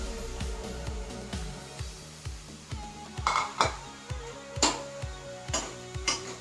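Crushed coconut and green chili stirred into pumpkin leaf thoran in a pan, with a steady run of clinking, scraping utensil strokes against metal, fairly close and regular.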